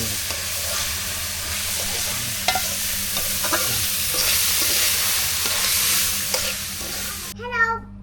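Chicken meat stirred and fried in a pan in a village kitchen: a steady hiss of sizzling oil with scattered scraping stirs throughout, and a voice briefly heard at the very end.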